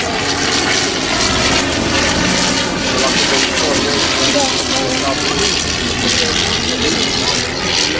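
Engine drone of a Blériot XI Pégoud replica aircraft landing at La Ferté-Alais, a steady loud propeller roar throughout with voices talking over it.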